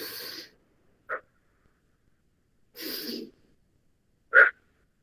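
Breathing sounds during a respiratory auscultation lesson, heard as separate close-up breaths, two longer airy ones and two short sharp ones, alternating with complete silence.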